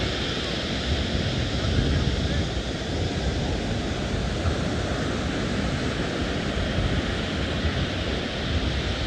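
Surf rolls in on a beach at dusk as a steady broadband wash, constant and moderately loud, with wind rumbling on the microphone.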